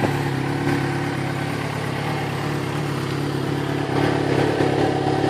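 A Yamaha XJ6 motorcycle with an upgraded exhaust idles nearby, a steady, gruff, burbling engine note with light mechanical clatter and a slight swell toward the end.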